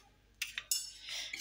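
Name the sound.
washing dishes and pans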